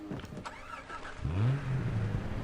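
A car engine in the game Far Cry 3 rumbles and revs up after a brief scrape of other noise, the low engine tone rising and settling, close and clear over the last second or so.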